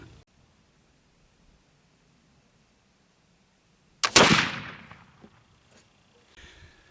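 A single black powder rifle shot fired at a shooting range, one loud close crack with a long rough rumble that fades over about a second, then quiet handling noise.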